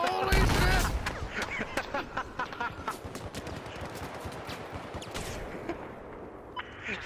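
A heavy low boom from a tank firing in the Battlefield 4 video game opens the sound. A steady crackle of distant gunfire and smaller battle noise follows.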